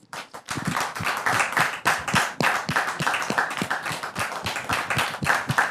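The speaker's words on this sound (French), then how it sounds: "Je voudrais tout de suite que nous recevons ici et maintenant le couple Kwasi sous vos applaudissements." A studio audience claps to welcome a couple onto a stage. The claps are sparse and distinct at first, then thicken into steady, moderately loud applause.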